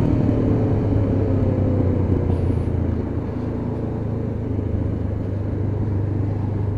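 Honda CB500 motorcycle, a 500cc bike, heard while riding: a steady low engine drone with rushing wind noise, constant and loud throughout, with no voices.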